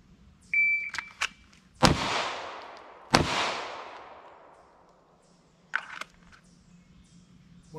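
Two sharp, loud handgun shots about a second apart during a draw-and-fire drill, each ringing out with a long echoing decay, preceded and followed by electronic shot-timer beeps.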